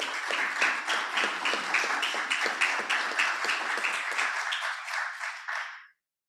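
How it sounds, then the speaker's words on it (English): An audience at a healthcare summit claps steadily in a sustained, evenly paced round of applause that stays loud, then tapers off and stops abruptly near the end. "give a round of applause for the distinguished Dr."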